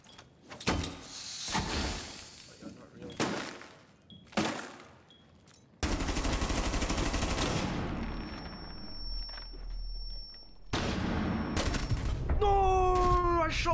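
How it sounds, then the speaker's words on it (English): Video game gunfire in a competitive 1v1 match, a handful of sharp, loud bursts in the opening seconds, followed by a sustained noisy roar with a steady whistling tone and then rising electronic chirps near the end. "I shot my gun"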